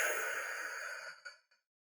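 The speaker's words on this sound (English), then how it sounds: "Big inhale, and then big exhale." A single slow, deep breath in a seated breathing exercise: a long, airy inhale flowing into a sighing exhale that trails off into quiet, close and clear with no talking.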